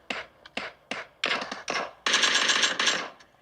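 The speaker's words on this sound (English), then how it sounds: "Oh, I'm getting shot at." Gunfire from a mobile shooting game plays through the speaker of a ZTE gaming phone, with sharp separate bursts at first and then longer rapid volleys, crisp and fairly close.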